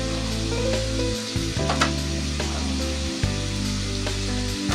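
Chayote (sayote) frying in a pan for ginisang monggo, a loud, close, continuous sizzle with occasional stirring clatters, over a low steady hum, no speech.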